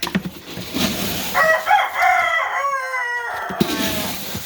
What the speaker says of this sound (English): Sorry about my roosters being so loud.